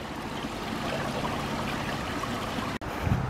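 Water trickles steadily over a beaver dam on a hiking trail, a close, continuous rushing babble with no talking and one faint click near the end.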